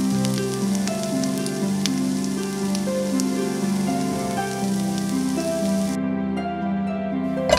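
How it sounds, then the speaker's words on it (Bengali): Chopped onions fry over low heat in oil until browned, a steady close sizzle that continues evenly with no voices. "পেঁয়াজগুলোকে বেরেস্তা করার জন্য হালকা আঁচে বাদামি করে ভেজে তুলে নিচ্ছি।"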